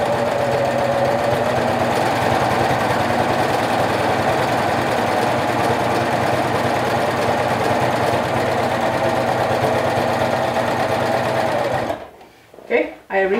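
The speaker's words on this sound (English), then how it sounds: "I will go ahead and top stitch, and I will have to pivot where the V point is." A sewing machine top stitches a seam at steady speed, a loud, close, rapid mechanical whir for about twelve seconds, then it stops abruptly, leaving a few small clicks and handling sounds.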